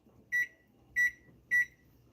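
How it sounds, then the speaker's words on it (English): A kitchen microwave oven gives three short, clear electronic beeps at an even pace while being set to cook a shrimp and sausage rice skillet, over faint background hum. "So with the microwave, I'm going to set this in the microwave."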